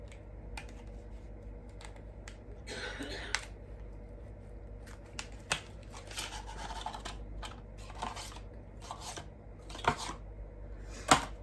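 Tarot cards being shuffled, with repeated papery riffles, flicks and taps coming in irregular bursts over a quiet background.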